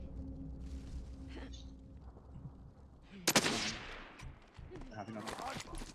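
Bursts of machine gun fire from a video game battle, a sharp loud volley cutting in midway over a background of game noise and talk, followed by further rattling shots.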